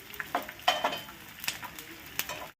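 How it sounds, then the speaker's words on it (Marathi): Edible gum (dink) fries in a pan, a soft crackling sizzle broken by a few sharp metallic scrapes and clinks of a spoon stirring against the pan. "आता मी हा सगळा तळून घेते."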